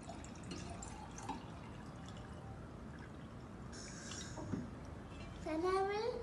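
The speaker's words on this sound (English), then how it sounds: "Same, I will pour some water in second glass." Water poured into a second drinking glass for a children's science experiment with a lemon, a short pouring and filling sound near the end, with someone talking over much of it.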